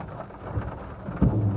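Heavy sheeting rain pours down during a storm chase near a tornado, a dense close hiss with a low rumble of thunder or wind swelling toward the end, no voices.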